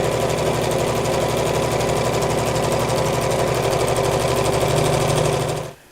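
A sewing machine stitches quilting lines across fabric in a workroom, its motor running in a steady, fast mechanical whir that holds close and loud without a break before cutting off at the very end.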